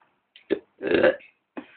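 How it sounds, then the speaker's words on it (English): A deliberate contest burp, one long loud belch in the middle, flanked by a couple of short throaty gulps and small belches, close to the microphone with no talking. "I can physically not burp anymore"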